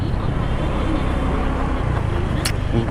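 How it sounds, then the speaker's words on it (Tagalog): Heavy road traffic rumbles on constantly at close range, engines droning with a brief sharp noise near the end. "Grabe traffic pala rito."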